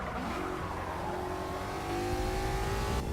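A Ford Mustang racing in Forza Motorsport 6, its engine roaring steadily and loudly with pitch sliding and shifting as it accelerates, brief tire noise underneath.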